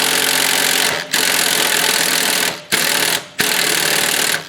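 A power wrench working on a spindle nut of a Cub Cadet LTX 1050 riding mower with a stripped bolt: a loud, continuous mechanical whirring that stops briefly three times.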